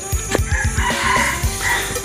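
A young Burmese fighting rooster crows loudly nearby, with several sharp clucks just before it and a brief cluck near the end.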